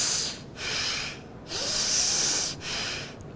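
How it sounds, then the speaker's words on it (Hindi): Slow nasal breathing for a calming breathing exercise: long hissing inhales and exhales through the nose, close and clear, alternating in a steady rhythm with brief pauses between breaths. "नाक से इनहेल, नाक से एक्सहेल"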